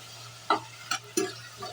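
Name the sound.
sautéing tomato, onion, ginger and garlic in a pan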